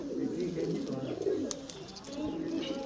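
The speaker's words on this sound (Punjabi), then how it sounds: "ਉਹ ਬਿੱਲਾ ਕਬੂਤਰ ਫਿਰਦੇ ਆ" Soft, low pigeon coos murmur continuously, with faint chirps and background stirring; no clear talking.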